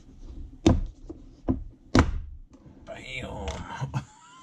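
Small latches on a suitcase-style case for a Purge slim piece vape device snapped open: three sharp close clicks and knocks in quick succession, followed by soft rustling and handling noise.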